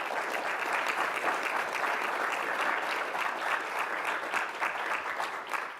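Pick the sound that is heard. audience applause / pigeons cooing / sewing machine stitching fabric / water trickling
audience applause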